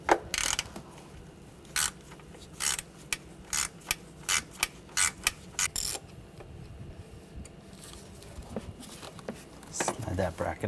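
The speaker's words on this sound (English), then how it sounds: "Using a T25 socket, take this bracket off." Ratchet driving a T25 socket to remove a bracket attached to the fuel line on a 2009-2013 BMW 328i xDrive 3.0L inline-six, heard as sharp, close clicking bursts in short irregular runs with quieter pauses between.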